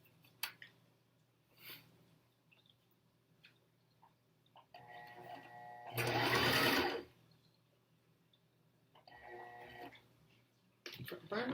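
A sewing machine stitches an N95 mask cover in a short loud burst of whirring, with quieter mechanical ticks and handling noises around it.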